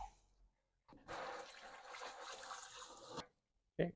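A part is rinsed under running water, a steady rushing splash lasting about two seconds that stops abruptly, followed by a short knock, heard close and alone.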